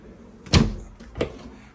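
A drawer in the front kitchen of a new 2024 Grand Design Imagine 2660BS travel trailer slides open with a sharp thud, followed by a second, softer knock a moment later, close by with no talking.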